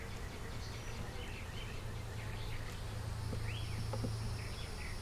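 Honey bees hum around an open hive in a faint, continuous buzz, with a low drone underneath and a few soft chirps from outdoors in the background.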